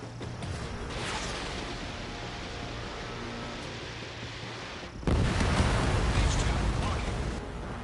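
An enemy bomber explodes in the combat flight game Ace Combat 7, a dull roaring blast that swells over a constant noisy jet-engine backdrop and then fades out.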